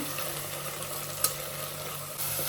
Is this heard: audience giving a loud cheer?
no